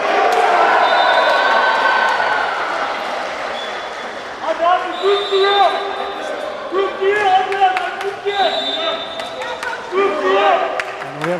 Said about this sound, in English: And we have a lot of cheering for Turkey now in the command area.